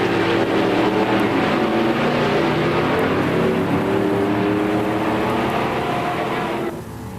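A 1970 Mercury Cyclone with a 429 Cobra Jet V8 and four-speed runs against a 1969 Chevelle with a 396 automatic at a musclecar drag race, both engines roaring at full throttle in a sustained, loud, rising howl before cutting off.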